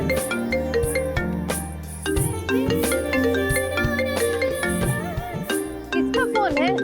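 A phone rings with a bright, melodic ringtone that loops continuously at a loud, near level, with a voice talking faintly in the background.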